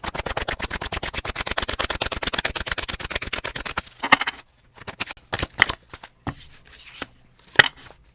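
Tarot cards shuffled by hand in a fast, even riffle of crisp flutters for about four seconds, followed by scattered slaps and taps as cards are cut and laid down, close and clear with no voices.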